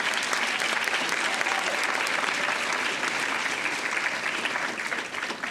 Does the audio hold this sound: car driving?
no